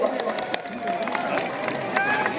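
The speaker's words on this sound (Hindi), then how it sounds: "दोनों लोगों का जोरदार तालियों के साथ आप अभिवादन करिए" A rally crowd applauds at a campaign nomination event with a chief minister, a dense, steady clatter of clapping mixed with crowd noise while a voice talks over it.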